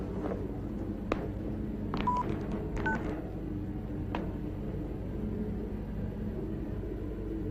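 A telephone keypad is being dialed to call the police, with several distinct DTMF tone beeps in a quick cluster near the start and one more a moment later, all over a steady low background hum.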